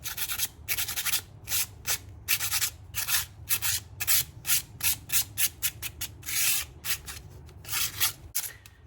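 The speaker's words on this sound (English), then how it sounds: "we just take our little sander, sand these little edges smooth" Rhythmic bursts of rasping, scratchy friction repeat in quick irregular strokes as a small power sander smooths the edges of a marbled vase.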